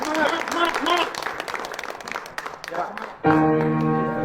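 Audience clapping breaks out under emotional talk, with voices speaking over scattered applause before a sustained tone cuts in near the end.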